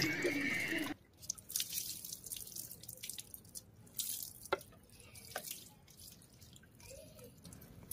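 Water runs and splashes close by as a Pomeranian puppy is bathed, a steady pour that stops abruptly, followed by drips and small wet movements.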